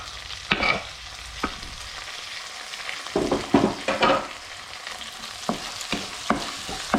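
Finely chopped tomato dropped into a hot pan with grated coconut and cumin, giving a close sizzle broken by bursts of stirring and scraping that come and go.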